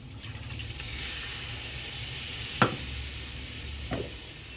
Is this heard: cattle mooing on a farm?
no